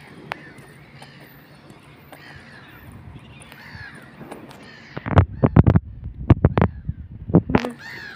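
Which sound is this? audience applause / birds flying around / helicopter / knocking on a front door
birds flying around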